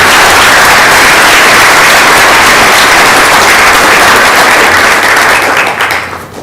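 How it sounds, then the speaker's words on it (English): Audience at the City of Lakewood 20th anniversary celebration applauding a dedicated group, a loud, dense, sustained wash of clapping from many hands that fades out near the end. "they too deserve applause for the work that they did"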